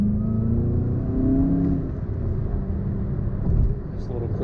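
A 2019 VW Jetta GLI 35th Anniversary Edition pulls briefly at night, its engine note a low, steady rumble with a short rising rev, heard from inside the car.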